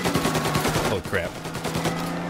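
Bursts of gunfire from the Mafia video game crackle in quick succession, with several rapid shots and a brief lull in between, mixed with game sounds and faint voice.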